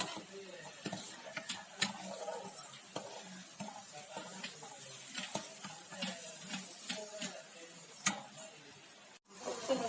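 Soft bubbling and sizzling of butter simmering into ghee in a pan, with frequent scraping and clicking from stirring, fairly quiet and continuous.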